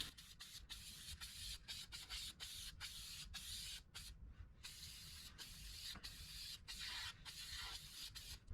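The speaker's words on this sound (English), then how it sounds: "I'm going to spray the ends as well." Air filter treatment is sprayed onto the ends of a GYTR high-flow air filter for a Yamaha YXZ in a series of short aerosol bursts with brief gaps between them, close and with no talking.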